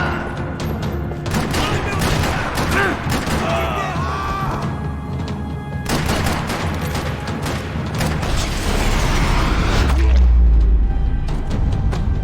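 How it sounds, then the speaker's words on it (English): Rapid bursts of gunfire rattle continuously amid crashes and booms in a parking lot in Max Payne 3, with loud game effects and a few voices mixed in throughout. "Another parking lot rattling with gunfire."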